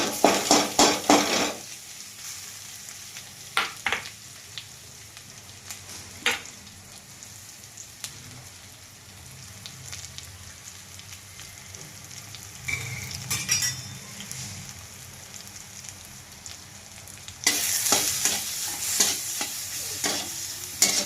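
Ground green chili paste for dal amti fries in hot oil with curry leaves, sizzling steadily with scraping stirs and occasional clinks of a spoon against the pan, louder bursts near the start and end.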